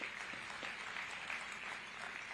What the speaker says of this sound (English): Let's give Saxeni Limited a big round of applause.